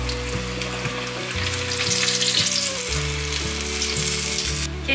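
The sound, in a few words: deep-frying tofu skin and taro paste in hot oil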